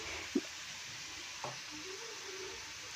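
A steady low sizzle of dried red chillies frying in a pan, broken by a couple of soft knocks as they are stirred.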